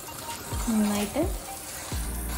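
One kilogram of beef sautéed in a pan for a beef curry gives a steady close sizzle, with a voice briefly sounding over it.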